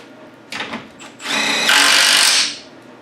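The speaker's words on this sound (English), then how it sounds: "maybe we'll bring it up and tighten down all the motor mounts" A power tool runs in short bursts on car engine motor mount bolts, two quick whirs followed by a longer, louder sustained spin close up, with no talking.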